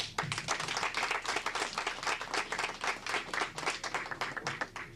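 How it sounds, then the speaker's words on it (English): An indoor audience claps steadily throughout, a dense, loud, continuous patter of many hands, with no break in the applause. "I think you all should keep clapping."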